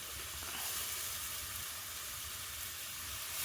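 Ground spice paste sizzling in hot oil while biryani is being cooked, a steady, bright hiss and crackle that stays even throughout, fairly quiet, with no voices.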